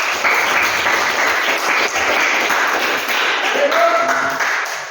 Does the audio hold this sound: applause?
yes